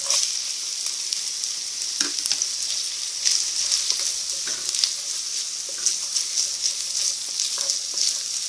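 Corn kernels fry in a pan for huitlacoche, giving a steady bright sizzle with small pops and an occasional scrape of stirring. It is close and continuous, and no one speaks.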